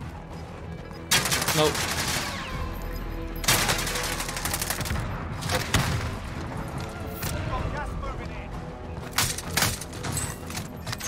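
Gunfire in the Warzone video game: several bursts of shots and booms, some near and some distant, scattered across the clip, with someone speaking briefly over the action.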